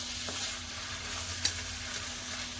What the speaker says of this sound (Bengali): এবার একটু ভালোভাবে নাড়িয়ে নিচ্ছি।